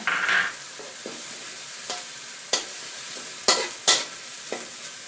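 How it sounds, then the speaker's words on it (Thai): Garlic and chilies stir-fried in a pan for a Thai three-flavor sea bass dish: a steady sizzle with scattered sharp clinks and scrapes of a utensil against the pan, close and without speech. "เอาพริกลงไปผัดให้เขาหอมก่อนนะคะ"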